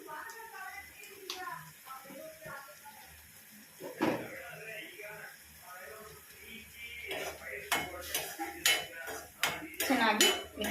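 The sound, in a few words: mixing ingredients with red chilli powder in a bowl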